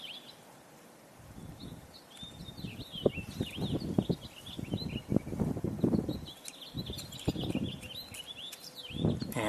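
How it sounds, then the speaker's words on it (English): A house finch sings in bursts of warbling high notes outdoors on a tour, while someone talks nearby and soft rustling and footsteps run under it. "definitely hearing a singing house finch."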